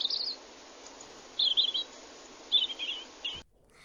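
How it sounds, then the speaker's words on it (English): A European robin sings in short high, thin warbling phrases, four bursts separated by pauses over a faint background hiss, ending abruptly. "the right answer is the European robin"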